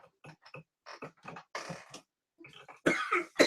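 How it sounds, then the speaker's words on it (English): A man coughs in a series of short, harsh bursts, with brief pauses between them and a heavier, louder cough near the end. "I hate coughing."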